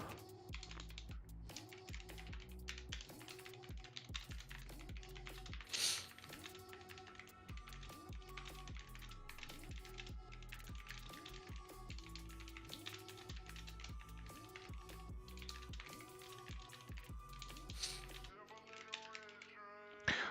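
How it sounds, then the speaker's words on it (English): Rapid, steady typing on a computer keyboard, close and continuous for most of the stretch with dense clattering keystrokes, briefly pausing near the end before a final few taps. "I'm just typing up some Fiora notes"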